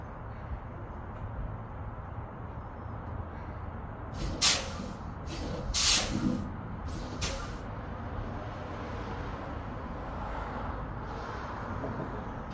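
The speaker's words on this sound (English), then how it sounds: "I will press brake couple of times." Three sharp hissing bursts of air brakes on a class 2 bus as the brake pedal is pressed repeatedly during a pre-trip check, over a steady idling engine rumble; the second hiss is the longest.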